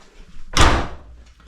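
An old door in an 1800s farmhouse under renovation swings shut with a single loud thud and a brief rattling tail, close by and alone.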